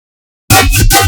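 Unprocessed flanged dubstep bass synth made in Serum, bursting in after half a second of silence, loud and gritty with a sweeping, wobbling tone.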